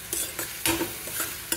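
A spoon stirs mushroom masala bhaji with garam masala and coriander in a hot pan, giving a run of close scraping strokes over a soft, steady sizzle.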